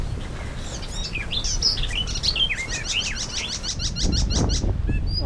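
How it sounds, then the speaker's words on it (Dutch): Many birds chirp and trill in repeated short phrases along a long straight walking path in the Dutch countryside near Woerden, with a steady low rumble of wind or distant traffic underneath. "Je hoort al die vogelgeluiden, dat is echt wel tof."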